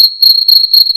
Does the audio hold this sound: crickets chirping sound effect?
yes